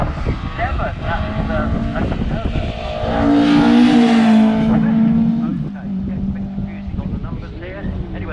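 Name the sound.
Ford Mark II Escort race car drifting at hillclimb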